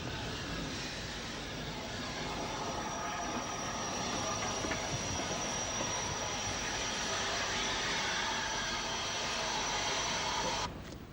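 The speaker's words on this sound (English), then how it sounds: "passes the north cabin and enters the station with a train from Derry" A steam train on Ulster railways in 1963 rumbles steadily close by entering a station, a broad continuous roar of wheels and engine with a faint high whine, cutting off abruptly near the end.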